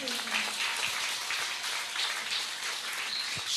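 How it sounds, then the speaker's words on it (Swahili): A church congregation claps for Jesus at a Swahili sermon, a dense, even roar of many hands sustained for several seconds, moderately loud with a few low thumps underneath and no speech. "Pigie Bwana Yesu makofi"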